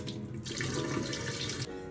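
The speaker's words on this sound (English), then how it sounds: "Soak the noodles in cool tap water." Cool tap water runs steadily from a faucet over cooked noodles in a kitchen sink, a close, continuous splashing hiss lasting about a second and a half before it cuts off.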